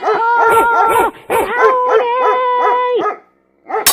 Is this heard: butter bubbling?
no